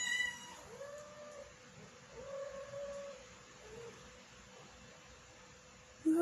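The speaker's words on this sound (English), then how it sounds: "You heard Bella, she meowed." A cat gives a few soft, drawn-out meows against a quiet background, with a louder sound breaking in at the very end.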